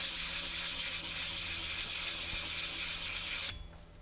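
An old brass door handle being hand-sanded to remove gouge marks, a steady continuous rubbing scrape that runs loud and close for about three and a half seconds, then stops abruptly.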